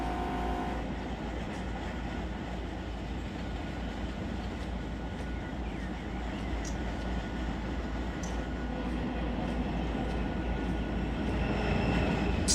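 Trains roll on rails in the Run 8 train simulator game, producing a steady rumbling clatter with rhythmic wheel clicks, continuous and fairly loud throughout.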